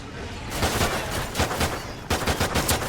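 Pistol fire in the video game Call of Duty: Ghosts Extinction, with a series of loud, close shots in quick, uneven succession over continuous game noise.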